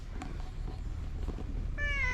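A pet cat gives a clear meow near the end, harmonic and fairly close, after quieter sounds over low background rumble on a cold snowy day at a campsite.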